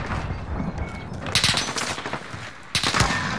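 Video game gunfire crackles in rapid bursts of automatic shots, with two louder volleys standing out above steady background game noise.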